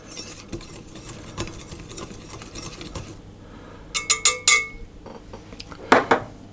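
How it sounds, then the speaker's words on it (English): Whisk stirring lemon zest into flour in a bowl for Easter bread dough, soft scraping and rustling followed by several bright, close metallic clinks in two short clusters. "I'm just going to use a whisk to mix those round."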